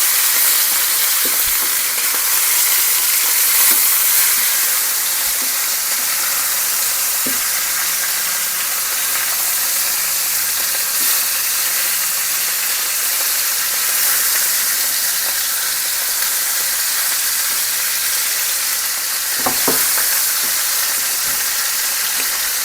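Meat searing in a large skillet gives a continuous close sizzle and hiss, with a few soft knocks and clinks of the pan or utensil scattered through.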